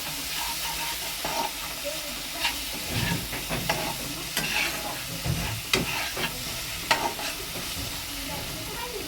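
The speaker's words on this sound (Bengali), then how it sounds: "মশলাটা আমার কষানো হয়ে গেছে" Spiced masala paste frying in hot oil in a pan, a steady close sizzle with intermittent scraping stirs and occasional louder spatters.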